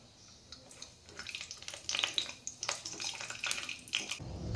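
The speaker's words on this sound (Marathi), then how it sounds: "यामध्ये आता आपण काजूचे पीस टाकून घ्यायचे आणि व्यवस्थित तळून घ्यायचे" Cashew pieces frying in a spoonful of ghee in a kadhai, giving a bubbling, crackling sizzle that grows busier midway, with occasional stirring, close and moderately loud, and no one talking.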